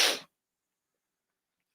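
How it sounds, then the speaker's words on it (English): A single short, sharp sneeze bursts out close to the microphone from someone with a cold or allergies, cutting off abruptly into silence. "I'm going to sneeze again."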